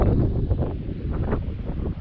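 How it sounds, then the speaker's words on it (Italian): Strong gusty wind buffets the microphone in a continuous low roar, rising and falling in waves with no talking. "ecco che si sta per alzare di nuovo il vento"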